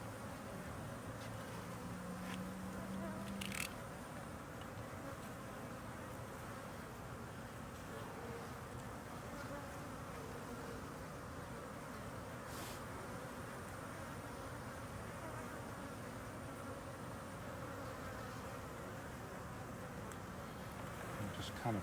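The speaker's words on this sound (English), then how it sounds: "bees are not going to be too happy while I'm doing this" Honey bees hum around an opened hive in a steady, dense drone throughout, with a few brief clicks and knocks rising above the constant buzzing.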